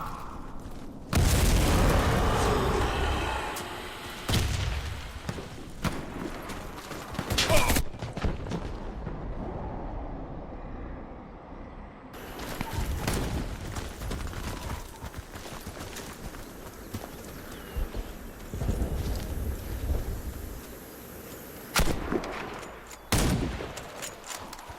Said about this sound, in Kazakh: Кидай гранату! Граната!